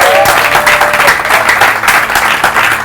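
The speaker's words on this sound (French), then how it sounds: "je pensais qu'on allait acclamer quand même" A church congregation in Kinshasa breaks into loud, sustained applause, dense overlapping clapping from a large crowd that stays strong throughout.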